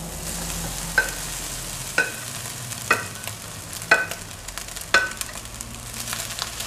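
Cooked rice is stirred through hot spices in a pan for lemon rice, with a soft steady sizzle and a sharp spoon scrape and clink about once a second, close and alone.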